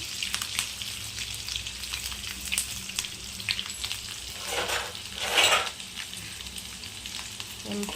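Curry leaves, peeled garlic and green chilli frying in hot oil in a home kitchen, giving a steady close sizzle with light stirring scrapes and one louder hissing surge near the end.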